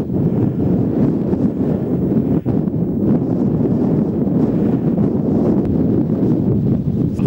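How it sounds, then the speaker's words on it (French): Steady hot desert wind among tall dunes in Morocco roars and buffets a microphone, a dense continuous rush with no voices and no breaks. "Le vent est tellement chaud."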